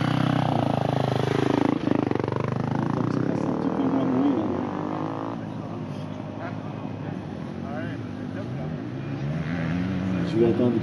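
Motocross motorcycles lapping a dirt cross circuit at a track inauguration in Etables, their engines droning and whining continuously at moderate distance, with people talking over the engine noise throughout.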